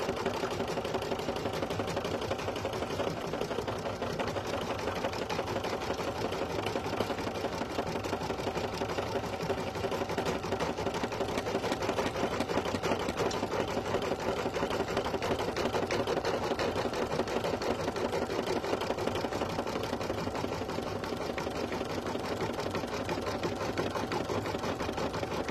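A sewing machine stitches continuously and rapidly, laying down satin stitches over several layers for appliqué, a steady mechanical chatter that never pauses.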